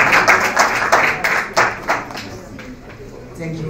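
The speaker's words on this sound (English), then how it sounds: "please give us applause for Leila" Audience claps for a speaker at a literary festival session on translating French literature, a short, thin round of clapping from a small group that quickly fades, with a voice speaking near the end.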